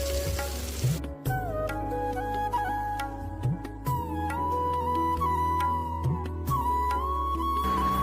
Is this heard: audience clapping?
no